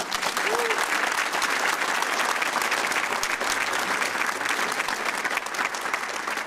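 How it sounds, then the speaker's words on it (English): Sustained, dense clapping from a tech conference audience fills the whole stretch at a steady loudness, with a brief voice faintly audible early on. "Round of applause for the hidden heroes."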